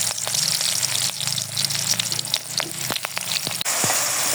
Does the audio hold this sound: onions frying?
yes